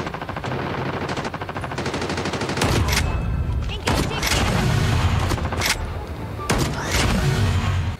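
Gunfire in Call of Duty Mobile: rapid automatic bursts and single heavy shots, loud and near, with repeated volleys over eight seconds and players talking over the shooting.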